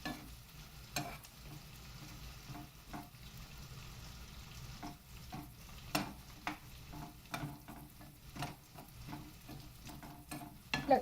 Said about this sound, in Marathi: त्याला परतायला मी हा मोठा डव घेते.